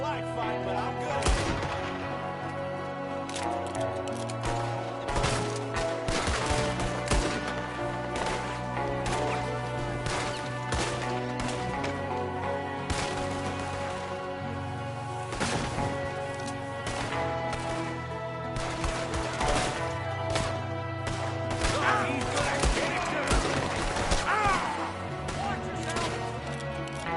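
Gunfire in the video game Red Dead Redemption 2: scattered sharp cracks and impacts burst out at irregular moments over a constant bed of game music and ambience.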